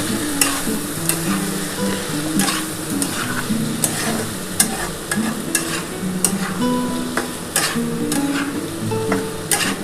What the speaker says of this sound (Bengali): এবার ভালো করে একটুখানি পোস্তটা দিয়ে একটুখানি ভালো করে নাড়াচাড়া করে নিতে হবে।